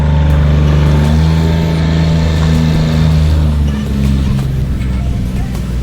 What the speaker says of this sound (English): I'm waiting for your gator sound to be gone.